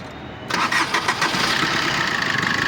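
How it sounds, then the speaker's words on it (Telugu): A Maruti Brezza ZDi+ diesel car engine cranks with a few quick starter pulses, then catches and settles into a steady, close idle. "సార్ బండి స్టార్ట్ చేస్తున్నాను చూడండి."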